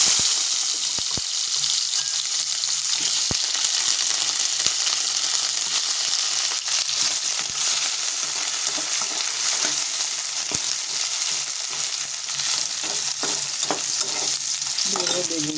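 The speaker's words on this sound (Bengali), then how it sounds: "এখন দিয়ে দেবো আমি কালো জিরাটা, দিলাম, দিব এই সবজিটা।" Nigella seeds and vegetables frying hard in a hot pan, a loud, continuous sizzle with repeated scraping stirs and occasional clicks of the spatula against the pan, steady throughout with no voices.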